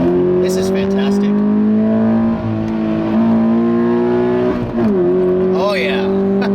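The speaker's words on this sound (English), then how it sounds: "This TRD Sport exhaust, ooh, I like that, guys." A 2017 Toyota 86 fitted with a TRD Sport exhaust revs loudly and steadily up through its range, the engine note climbing with a brief dip and recovery near the end, heard close.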